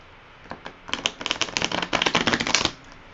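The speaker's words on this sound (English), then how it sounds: "let's go ahead and shuffle the cards one time." A deck of tarot cards is riffle-shuffled up close, a dense burst of quick crisp flutters lasting about two seconds, framed by soft handling sounds and quiet.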